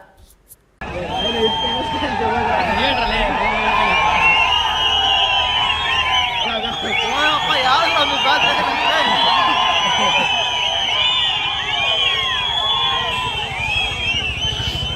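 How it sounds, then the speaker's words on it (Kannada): A large crowd of BJP party workers in Chikkaballapur cheers, whoops and chants Modi's name at an election victory celebration, dense loud shouting and babble sustained throughout after a brief quiet start. "ಬಿಜೆಪಿ ಕಾರ್ಯಕರ್ತರು ಮೋದಿ ಮೋದಿ ಎಂದು ಜೈಕಾರ ಕೂಗಿ ಕುಣಿದು ಕುಪ್ಪಳಿಸಿದ್ರು"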